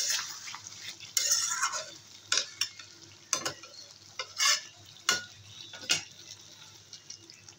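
Potato dum cooking in milk, a continuous sizzling bubble in the pan with repeated scraping strokes of a spoon and occasional metallic knocks against the vessel, close by, no voices.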